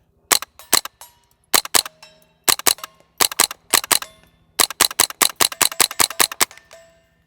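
A semi-automatic .22 fitted with a Gemtech Integra suppressor fires outdoors into a bank in quick clusters of sharp, dry cracks, about two dozen shots with short pauses between bursts.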